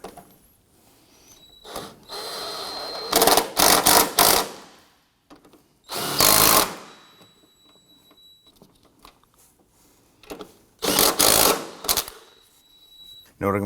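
Top strut nuts on a 2003-2014 Volvo XC90 front strut and spring assembly being snugged with a power tool, heard as three loud, close mechanical whirring bursts separated by quiet pauses.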